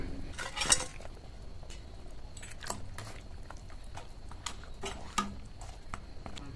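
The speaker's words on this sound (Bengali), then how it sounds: "ভাজা মাছগুলো এবার বেগুনের সাথে দিয়ে দেবো।" Fried rohu fish pieces being placed into a pot with eggplant, a few soft clinks and scrapes of a utensil against metal, with one sharper clank early on, quiet and close with no voices.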